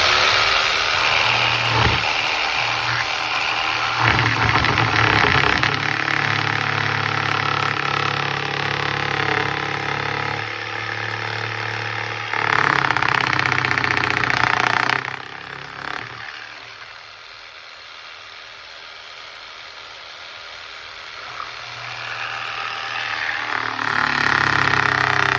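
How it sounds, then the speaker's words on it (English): Jigsaw cutting a closed cut in wood, a steady loud buzzing whine that runs almost continuously, dipping and changing tone as the blade works through the board, then picking up again near the end. "I'm going to show you how the easy way to do it with the jigsaw"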